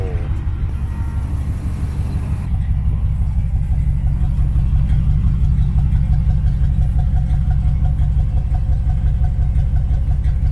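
A motorized bicycle kit engine runs steadily, with a loud, close, continuous mechanical drone that grows slightly fuller after the first couple of seconds and holds an even rhythm.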